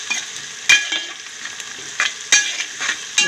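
Turmeric fries in a pan in hot oil, a steady close sizzle broken by several sharp scraping strokes of a spoon stirring against the metal, loud and alone with no voices.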